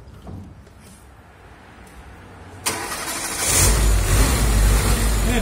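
A car engine cranks over and catches after an electronic ignition system has been fitted, settling into a steady, loud idle. The sound builds from a faint background hum into a sustained running roar.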